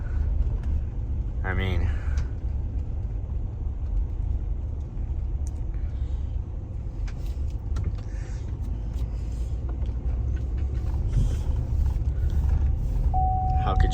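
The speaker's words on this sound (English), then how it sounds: "pulling out of the parking lot here" A car pulls out of a parking lot near a highway, a steady low engine rumble and road noise throughout, with someone talking briefly over it and a faint beep near the end.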